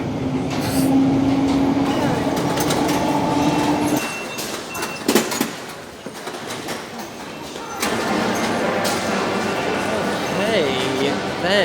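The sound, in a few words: London Underground train running loudly and bumpily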